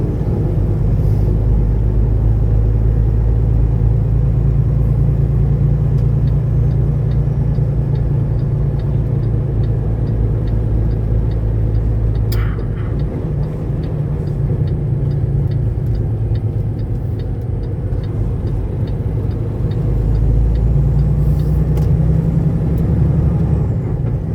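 A truck cruises along a highway with a loud, constant low engine drone and road rumble that dips briefly midway and picks up again, close and sustained with no speech.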